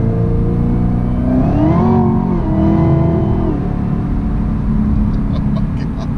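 A supercharged Chevrolet Camaro ZL1 accelerates hard on an open road, its engine note rising steeply and then easing, heard loud from inside the car.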